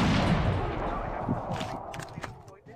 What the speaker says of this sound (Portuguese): Não, ele já pulou, dei tiro nele.